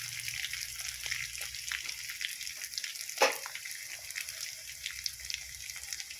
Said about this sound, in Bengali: খুব সুন্দর করে পেঁয়াজগুলো নেড়ে চেড়ে লাল করে একটু ভেজে নিয়েছি